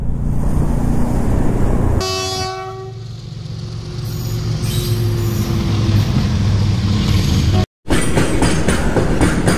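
A train crosses a level crossing near Sevoke railway station in Bengal, a sustained horn blast sounding over the rumble of passing rail cars, loud and close, with a brief dropout before the rolling noise continues.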